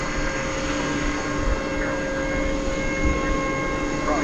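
An American Airlines Airbus A321 in the Allegheny heritage livery lands at night at DFW Airport, heard as a steady, fairly loud engine rumble with a constant whine that holds throughout.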